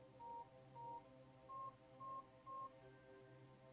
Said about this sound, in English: look at the phone, and just call the number.